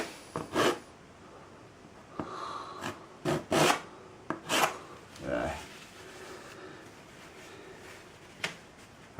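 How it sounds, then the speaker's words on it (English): A palette knife scrapes excess oil paint and liquid white off a painting surface with hard, forceful strokes, giving several short rasping scrapes in irregular bursts, close and moderately loud, with pauses between them. "scrape it as hard as you can to get it off"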